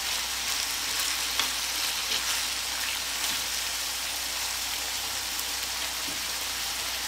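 Hamburger meat and onions fry in a pan on the stove, a dense, even sizzle with scattered crackles and pops that runs steadily at moderate volume with no voices.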